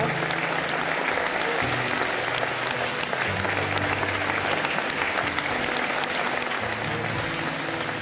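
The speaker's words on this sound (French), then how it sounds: "Je voulais vous demander d'applaudir chaudement les bénévoles qui ont été formidables pour que tout le monde soit là" A large crowd at a Lourdes pilgrimage gathering applauds the volunteers with sustained, dense clapping that stays loud and even throughout, with faint voices underneath.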